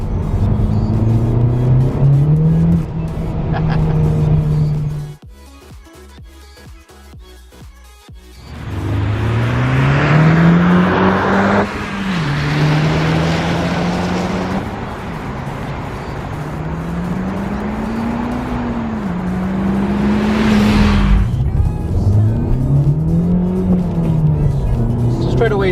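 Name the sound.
Honda Civic Type R driving off in first gear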